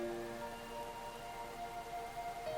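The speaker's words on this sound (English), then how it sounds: "The intensity of the rain also picks up." Rain falls steadily in the visual novel game Aokana, a soft continuous hiss set beneath sustained background music.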